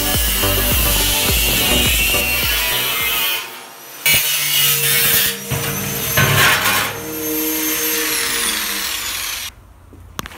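An angle grinder cuts a window opening into metal during a homemade sandblaster build, a loud high-pitched whine broken by brief pauses and bursts as the disc bites in and eases off.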